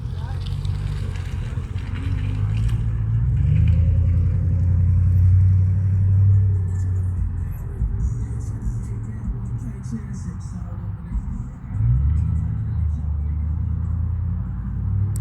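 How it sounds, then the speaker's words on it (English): Truck engine rumbling low as it pulls down McKinley and into a residential circle near a house, steady and fairly close with rises and dips in revs and a brief swell near the end. "This truck just pulled down McKinley, and it pulled into my circle"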